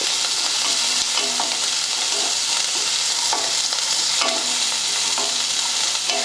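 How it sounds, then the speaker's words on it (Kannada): Onions and garlic sizzle steadily in hot oil, with a constant crackling hiss and occasional scraping clinks of a spoon stirring the pan. "ಇದೆಲ್ಲ ಚಲೋ ಹೊತ್ತಿಗೆ ಹುರ್ಕೋಬೇಕು ರೀ"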